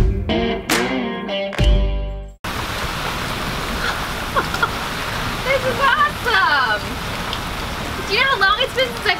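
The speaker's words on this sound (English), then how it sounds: "It's not even raining that hard." Steady rain pattering on a sailboat at anchor, a dense continuous hiss after a short burst of tonal sound, with voices talking intermittently over it.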